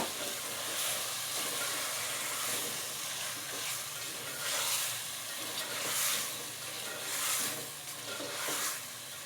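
Beef frying in a pot for beef yakhni pulao, a steady loud sizzle and hiss with swelling waves of crackle as it is stirred, no talking.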